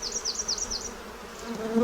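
Honey bees buzz in and around an open hive box, a close, steady droning hum with a few higher wavering whines of individual bees passing near.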